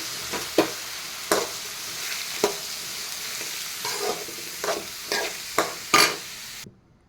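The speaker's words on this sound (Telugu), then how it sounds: "ఇక్కడ మనం ఈ కట్ చేసుకున్న సొరకాయ ముక్కల్ని ఇందులో వేసేస్తాం. బాగా మిక్స్ చేసుకోండి." Spoon stirring chopped bottle gourd pieces frying in a pan, giving a steady sizzle broken by about eight scraping strokes at an uneven pace, close and clear until a sudden cutoff.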